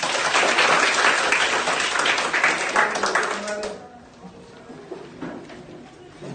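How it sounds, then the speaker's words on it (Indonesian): Classroom group clapping after singing Indonesia Raya, loud dense applause for about three and a half seconds that then fades, leaving scattered claps and murmuring voices. "tepuk tangan untuk kita semua"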